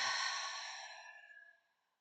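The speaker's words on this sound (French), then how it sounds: "inspirez par le nez. Soufflez par la bouche." A single long, breathy exhale through the mouth during a guided Lenten prayer breathing exercise, loud at first and fading to silence over about two seconds, with no talking.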